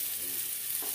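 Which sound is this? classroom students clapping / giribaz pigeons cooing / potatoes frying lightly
potatoes frying lightly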